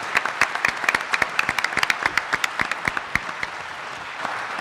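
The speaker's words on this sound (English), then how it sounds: "let's clap and give them a hand and thank them." An audience gives a panel a brief round of applause, a scattering of sharp, individual claps from a modest crowd in a room.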